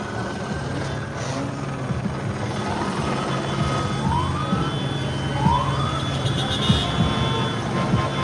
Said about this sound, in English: that helicopter is low as hell